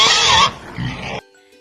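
A pig grunts and squeals in a rough, loud burst, then a lower grunt follows before the sound cuts off.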